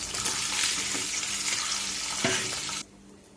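Chopped onions, curry leaves, dried red chillies, tempering spices and ginger-garlic paste fry in a pan for gongura boiled-egg curry, giving a loud, steady close-up sizzle that stops abruptly near the end.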